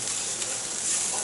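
Squid stir-frying with gochujang seasoning in a pan, a steady, close, dense sizzle that continues without a break.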